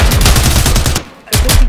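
Rapid automatic gunfire in the tactical shooter game Zero Hour rattles in loud close bursts, a fast rhythmic stream of shots with a short gap before firing resumes.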